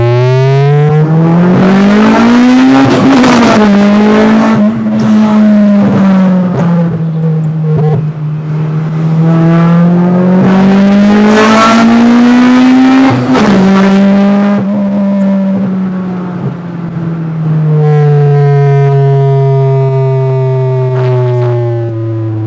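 A 2000 Honda Civic Type R EK9 engine revs hard and repeatedly, climbing and falling in pitch with a loud, raspy exhaust note and occasional pops, close and alone without talk.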